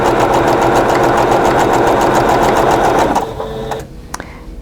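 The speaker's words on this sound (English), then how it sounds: "So I'm just going to swing this around and stitch down this side." Sewing machine stitching down the side of a quilt block, a loud steady rapid mechanical whir that runs continuously for about three seconds, then slows and stops, leaving faint clicks.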